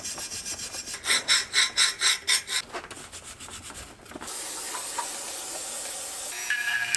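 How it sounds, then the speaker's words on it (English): Rasping and grinding on a Puch Maxi moped exhaust as drilled holes are smoothed and their edges eased, a run of rhythmic strokes followed by a steady, close hiss of tool noise with no talk. "I'm more just kind of smoothing them out and easing the transitions"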